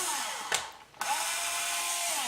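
Power drill boring into wood with a 1/16 inch bit, a steady high whir that cuts out briefly and restarts, close by and without talk.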